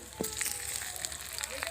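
Two hilsa fish heads fry in hot spiced oil, a brief, dense, close sizzle with small crackles throughout.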